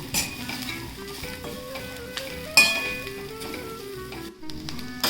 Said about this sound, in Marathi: आता ही वेलची पावडर आणि जायफळ पावडर टाकते. थोडं परतते.